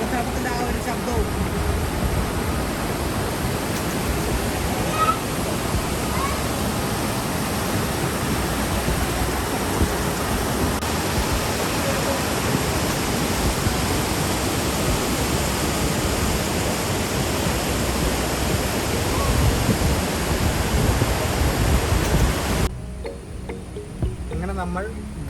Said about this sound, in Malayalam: ആ താഴോട്ട് പോകുന്ന വെള്ളച്ചാട്ടത്തിൻ്റെ ആ ഒരു ശബ്ദവും